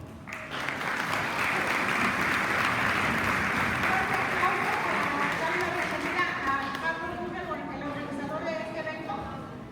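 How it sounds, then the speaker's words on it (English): Audience at a soccer all-star luncheon gives a round of applause for the organization's president, a full, sustained burst of many hands clapping that gradually tapers, with some chatter and a voice emerging beneath it toward the end. "Everybody help me give a round of applause to the president of this organization, Carlos Rubio"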